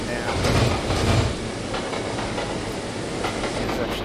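A game train pulls into a busy station, heard as a rumbling rolling roar with a heavier low thump early on, then a steady rail drone with faint clatter, close and continuous.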